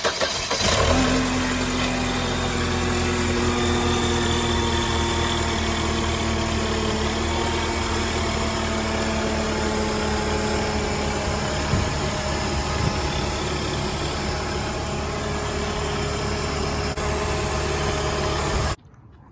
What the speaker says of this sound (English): we saw that the belts spun, the engine spun with no problem